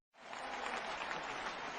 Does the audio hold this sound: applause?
yes